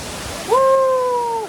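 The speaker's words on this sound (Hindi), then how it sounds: "ये हो गया फाइनली उमरू वाटरफॉल।" Umru waterfall in Karbi Anglong pours down with a steady broadband rush of water; a clear whistle-like tone rises over the roar for about a second midway.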